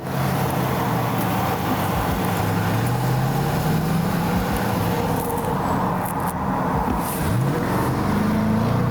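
A Jaguar F-Pace SVR pulling away in traffic, steady loud engine and road noise with a rising rev toward the end, heard close and without talk.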